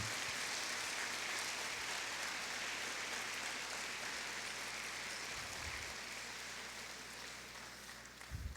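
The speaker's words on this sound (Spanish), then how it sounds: "Vamos a darle un aplauso a la Biblia, un aplauso a esa palabra santa." A church congregation at a prayer breakfast applauds together, a continuous, fairly faint wash of many hands that holds steady and thins slightly toward the end, heard from a distance.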